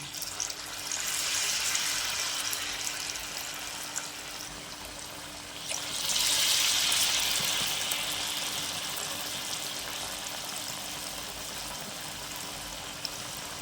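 Cassava susiyam dumplings sizzle in hot oil with a steady crackling hiss that swells louder midway as more batter goes in, close and continuous without talk.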